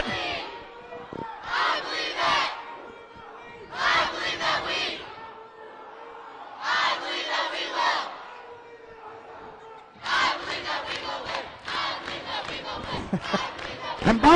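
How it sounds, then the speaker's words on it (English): A student section at a girls' basketball game chants a cheer in loud, rhythmic bursts of shouting, separated by brief pauses, growing denser and more continuous toward the end. "We've got Chandler Roberts to do the cheer to start it"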